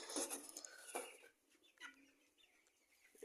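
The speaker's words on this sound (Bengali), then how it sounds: "আরেকটা মুরগি দেখি, একটা বড় মুরগি ধরি" Broiler chickens on an eighteen-day-old farm flock cluck and call loudly at first, with a sharp burst near one second, then quieter scattered clucks trailing off.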